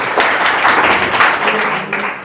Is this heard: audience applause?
yes